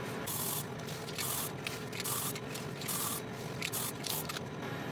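Spraying Plasticoat satin finish from an aerosol can onto a steampunk clock part, a series of short hissing bursts with brief gaps between them, fairly quiet and close.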